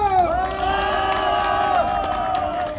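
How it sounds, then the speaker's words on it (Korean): A crowd at an outdoor Korean cultural festival and heavenly rite ceremony cheers and claps, a dense continuous roar with sustained whoops and voices, loud and near, with tonal music or chanting layered through it. "마지막으로 박수 함성!"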